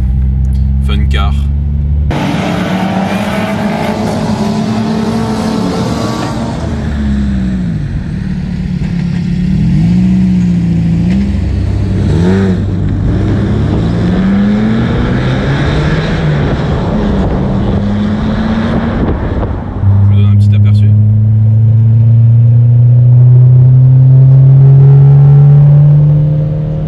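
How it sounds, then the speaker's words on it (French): A cheap car's engine accelerates gently through the gears on the road. The revs climb and drop with each quick shift, droning loudly inside the cabin while someone talks over it. "j'essaye d'accélérer gentiment et de passer rapidement les rapports"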